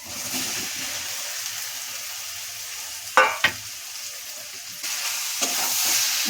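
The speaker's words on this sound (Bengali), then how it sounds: "এখন আমি ভাজা এঁচড়টা ছেড়ে দিচ্ছি" Fried green jackfruit goes into a pan of cooked spice paste for a jackfruit and prawn curry. A steady hiss of frying continues throughout, broken by two sharp knocks of a utensil against the pan.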